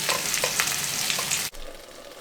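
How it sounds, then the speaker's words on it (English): Pears and onions cook in a pan for chutney, a close, steady frying sizzle with light stirring scrapes that suddenly quiets to a softer hiss partway through. "let all that flavor cook into those pears and onions as those pears cook down"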